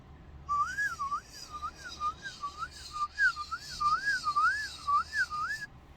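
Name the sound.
palate whistle with vibrato, holding the tone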